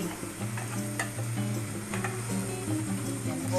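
Beef sizzles and fries in a hot pan, a soft continuous crackle and hiss with occasional light stirring taps, close up and alone, with no voices.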